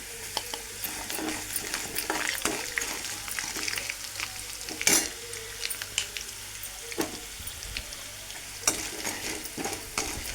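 Cumin seeds, with a little ginger, crackle in hot oil in a pan for a drumstick-leaf (moringa) chutney, giving a steady soft sizzle with scattered sharp pops and the occasional scrape of a spoon stirring, heard close with no talk.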